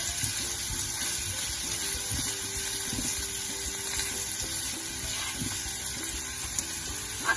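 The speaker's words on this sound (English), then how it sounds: "And then you just want to saute your onions for a little bit." Onions sauté in a pan, a steady hissing sizzle that stays even and close throughout, with a few faint clicks of stirring.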